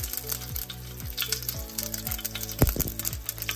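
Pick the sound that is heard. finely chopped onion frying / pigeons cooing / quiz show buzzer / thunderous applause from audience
finely chopped onion frying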